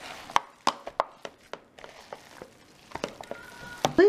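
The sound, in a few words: mixing burger patty meat by hand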